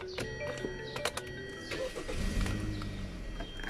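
A 2012 Hyundai Sonata starts up: a few clicks and chimes, then the starter cranks and the engine catches into a low, close rumble, with no talking.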